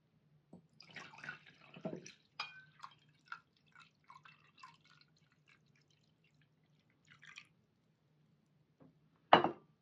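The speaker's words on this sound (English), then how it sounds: "Let me pour you a cup." Tea trickles and drips into a cup up close in small irregular splashes, with a soft clink near the end.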